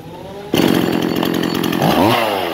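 A Tanaka 345 chainsaw engine catches after a brief quiet moment and then runs loud and close, a buzzing two-stroke roar that climbs in pitch as it revs near the end.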